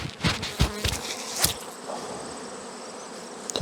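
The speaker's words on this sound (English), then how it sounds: "The bees are stinging me." Bees swarm close around a beekeeper, a dense insect buzz with sharp louder passes in the first second and a half, then settling into a steady, fainter hum.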